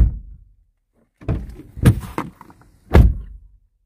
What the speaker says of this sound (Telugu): ఒకసారి డోర్ సౌండ్ కూడా ఒకసారి వినండి.